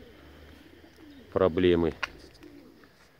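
Pigeons cooing near an old dovecote, one close, full bird coo rising over quiet background noise, with a voice speaking briefly nearby.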